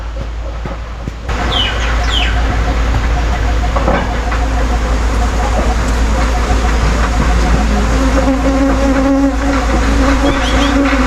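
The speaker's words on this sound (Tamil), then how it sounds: "இந்த தேனீக்கு அதெல்லாம் சேர்ந்து ஒரு ராணி தேனி ஒன்று உருவாக்கிட்டு இந்த முட்டியில் வந்து அப்படியே கூடு காட்டிக்கிட்டு இருக்குது" Honey bees swarming around a clay pot hive on a farm that also keeps chickens, a steady buzzing drone running throughout at close range, with clucking and other farmyard sounds mixed in and no clear talk.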